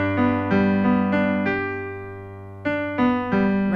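A singer runs a vocal warm-up of simple downward octaves, holding the top note briefly before dropping, as a series of clear, bright sung phrases with a pause before the last two, alone and close.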